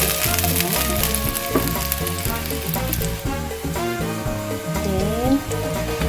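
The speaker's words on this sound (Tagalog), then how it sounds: "Gigisa natin yung ating bawang." Chopped garlic sizzles steadily in a hot pan as it is sautéed for fried rice, a continuous frying hiss heard beneath loud background music.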